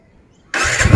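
A TVS Apache RTR 160 2V motorcycle engine fires up abruptly after half a second of near silence, then settles into a loud, close, throbbing idle.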